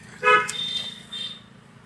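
During a street driving lesson, a short car horn toot sounds nearby, then a second, softer honk follows over a low idling engine hum.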